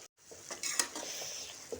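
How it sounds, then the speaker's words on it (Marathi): Jackfruit bhaji sautés in coconut oil in a pan, with a brief stretch of soft sizzling. A few quick scraping stir strokes sound close by, and no one speaks. "1 मिनिट परतून घेते"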